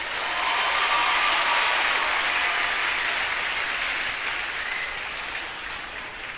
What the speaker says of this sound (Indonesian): Tepuk tangan ya tepuk tangan